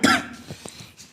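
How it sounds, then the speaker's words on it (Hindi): One harsh cough close to the listener, followed by a few soft throat sounds and breaths trailing off. "हाँ थोड़ा खांसी आ रही है।"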